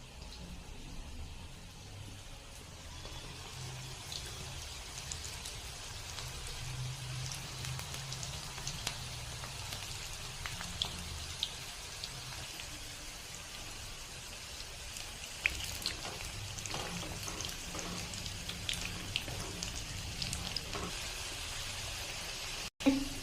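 Onion pakoda sizzles as it fries in hot oil, a steady crackling hiss with tiny pops throughout, close and moderately quiet, with no talking.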